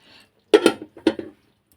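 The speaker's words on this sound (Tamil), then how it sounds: "இப்போ வந்து ஸ்டவ் ஆஃப் பண்ணி இப்படியே மூடி வச்சிடலாம்" A lid is set down on a pot of oily brinjal tamarind curry after the stove is switched off: a few close metallic clinks and knocks in quick succession, then quiet.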